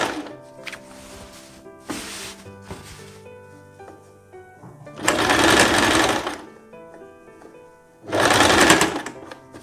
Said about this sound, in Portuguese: E a gente vem costurando aqui por cima, exatamente em cima daquela costurinha.